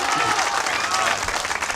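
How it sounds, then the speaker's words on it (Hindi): An audience at a mushaira breaks into sustained, dense applause that fills the space evenly, with a murmur of crowd voices mixed underneath. "दोस्तों, एक बार जोरदार तालियां बजाकर हौसला दें।"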